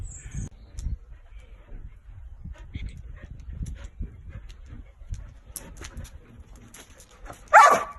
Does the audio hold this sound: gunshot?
no